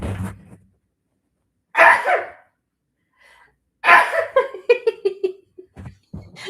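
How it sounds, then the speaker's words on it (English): A sharp close sneeze bursts out after brief build-up breaths, followed by a second explosive sneeze and some trailing vocal sounds. "I have to sneeze."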